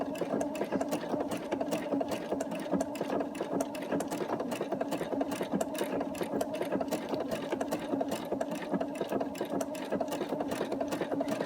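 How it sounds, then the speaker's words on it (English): A domestic sewing machine runs steadily, stitching forward and back at a slow, even pace with a continuous fast needle chatter and motor hum, quiet and close with no voices. "I would sew much faster if I was using my foot pedal."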